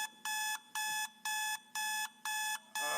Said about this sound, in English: The alarm clock goes off.